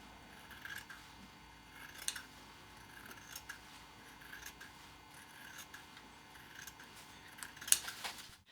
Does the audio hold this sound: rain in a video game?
no